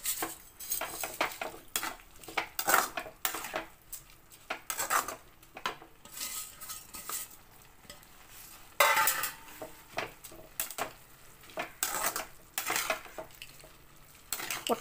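Finger millet vermicelli is stirred in a metal pan with a spoon, making close, irregular scraping and clinking strokes over a faint sizzle, with short pauses between bursts.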